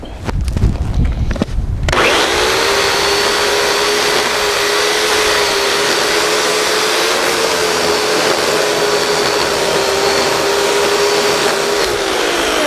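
A chainsaw cuts into a tree. A brief rough, clattering start is followed by a loud, steady, sustained engine drone and cutting roar close by that holds evenly to the end, with no talking.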